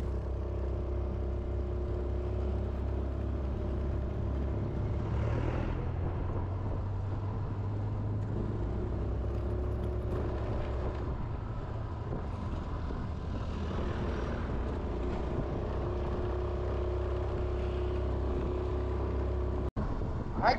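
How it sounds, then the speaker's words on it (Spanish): Continuous engine drone of a small motorcycle riding along, a steady low hum with wind noise and shifting pitch throughout. "y eso que andamos en una moto chiquita"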